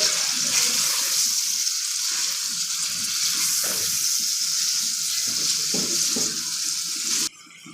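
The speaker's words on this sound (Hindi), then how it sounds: "अदरक लहसुन का पेस्ट हमने ऐड कर लिया है, इसको अच्छी तरह से हम फ्राई करेंगे।" Ginger garlic paste sizzles loudly in hot oil for a chicken qorma, a dense continuous hiss with faint stirring scrapes, cutting off abruptly near the end; no voices.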